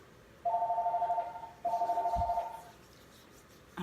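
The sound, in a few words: telephone ringing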